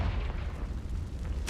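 A Confringo spell blast in Hogwarts Legacy, a low steady rumble ending in a sharp, loud burst right at the close.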